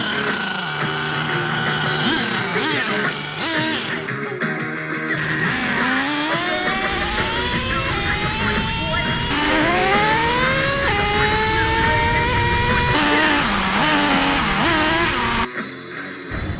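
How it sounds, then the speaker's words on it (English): A small HPI Savage 25 nitro engine in an Exceed Mad Storm RC car revs and whines, pitch climbing and falling repeatedly in sustained buzzing runs, loud and close throughout. "This is my Exceed Mad Storm running the HPI Savage 25 engine"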